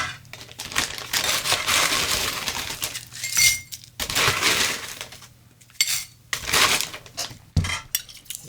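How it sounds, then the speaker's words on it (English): Ice cubes clatter and clink into a cocktail shaker while a Kosmopolitan is being made, coming in several loud, uneven bursts with brief pauses between them. "we'll start with a little ice in there."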